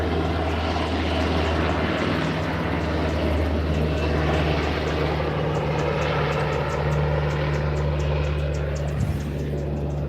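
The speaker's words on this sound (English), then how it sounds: "Why would a helicopter be flying over me now?" A military helicopter passes overhead with a steady, loud rotor and engine drone that holds a constant tone for the whole stretch, with no voices.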